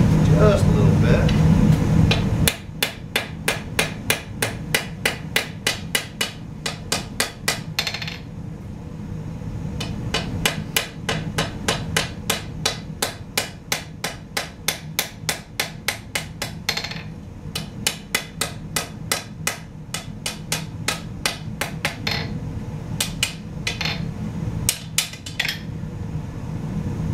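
A hammer rings on a blacksmith's anvil in a forge, dozens of sharp metallic strikes in steady rhythmic runs with short pauses, close and clear over a low background hum, with talk at the start.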